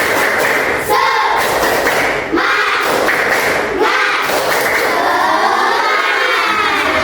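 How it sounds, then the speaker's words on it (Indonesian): A classroom of students performs the rhythmic 'tepuk semangat' clapping chant in an Islamic religious education lesson, loud unison voices punctuated by several heavy, evenly spaced group claps. "coba tepuk semangat."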